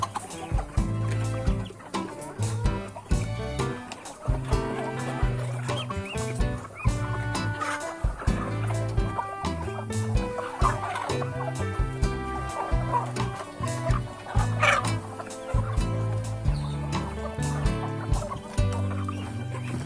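Ducks and chickens cluck and squawk steadily close by while eating feed mixed with brewers' spent malt, with frequent sharp pecking taps and fowl calls overlapping throughout, fairly quiet overall.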